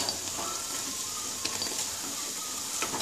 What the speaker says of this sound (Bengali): বড়াগুলো বেশ সুন্দর করে ভেজে আমি তুলে নেবো।